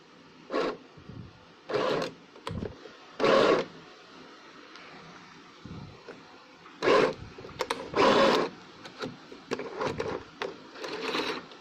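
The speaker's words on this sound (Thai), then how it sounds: "ค่อยๆเย็บนะคะ" A sewing machine stitches fabric pieces together for scrunchies, running in short repeated bursts of rapid mechanical whirring with brief pauses between, close and clear with no talking.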